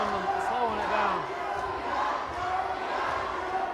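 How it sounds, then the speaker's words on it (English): Spearman home crowd at a high school basketball game against Canadian, a steady roar of voices and cheering filling the gym with rising shouts, continuous and fairly loud. "But we have the Spearman crowd getting into it."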